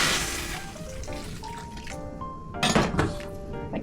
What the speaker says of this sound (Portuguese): Também coloco já água, um pouquinho bom